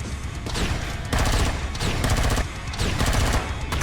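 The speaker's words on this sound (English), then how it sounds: "Stand still while I'm trying to shoot you." Rapid automatic gunfire in the space survival game Empyrion Galactic Survival, a dense, loud fusillade of bursts that barely pauses, with sharp transient cracks stacked over a constant roar.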